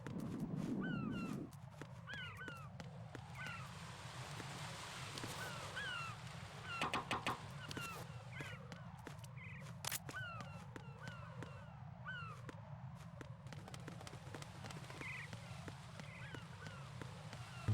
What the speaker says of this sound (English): There's a bunch of birds with poop.